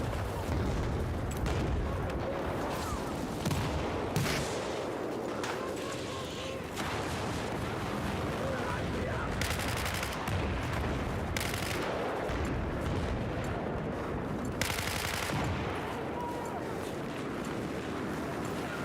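An RPK machine gun fires in a Battlefield match, with repeated loud bursts of automatic fire over a dense, noisy combat background of booms and distant shots.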